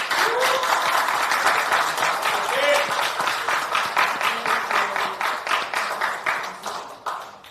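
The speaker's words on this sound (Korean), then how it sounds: "박수 한번 부탁드립니다." Audience applause at a Democratic Party leadership meeting in Ulsan, a full round of clapping that holds for a few seconds, then breaks into slower rhythmic bursts as it tapers off, with a voice briefly heard over it.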